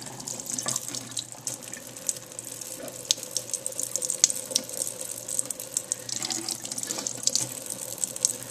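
Alkaline ionized water runs steadily from a sink tap as a Bengal cat drinks from it, a continuous close splashing hiss with small bright drips and gurgles throughout.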